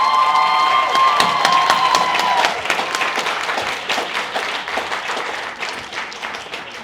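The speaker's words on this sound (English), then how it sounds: "Give them a big round of applause." Loud applause and cheering from a crowd at a lab coat ceremony, with a shrill whistle or shout over dense clapping early on, then the clapping continuing and slowly fading.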